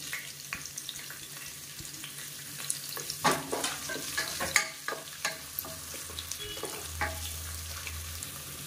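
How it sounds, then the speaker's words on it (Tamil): Long-sliced onion fries with spices in hot oil for kadalai curry, a steady close sizzle broken by frequent spoon stirs and scrapes against the pan. "வெங்காயம் நல்லா வதங்கிட்டு இருக்கு."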